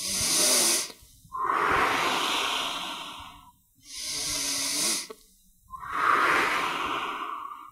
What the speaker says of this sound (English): deep breaths in through your nose and out through pursed lips